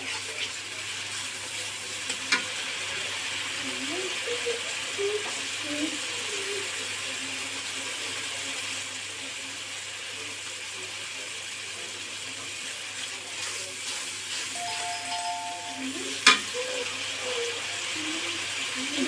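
Dried taro corms and shrimp fry in hot oil in a pan with a steady, even sizzling hiss that lasts throughout. A few faint clinks and scrapes from stirring break through now and then.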